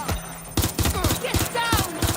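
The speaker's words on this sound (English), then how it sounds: "They're shooting at us." Rapid gunfire bursts from a shootout in the video game Watch Dogs Legion, sharp repeated shots in quick clusters with voices calling out between them.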